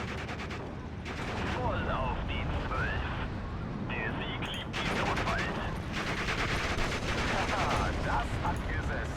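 Bursts of machine gun fire in the World War II strategy game Steel Division: Normandy 44 during a 2v2 battle at Pegasus Bridge, rapid rattling volleys repeating over a dense battle din with distant booms.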